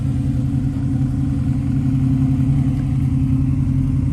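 A 1979 Chevrolet Camaro engine idles steadily just after starting, a loud, close, even low rumble with a constant throb and no revving, heard alone.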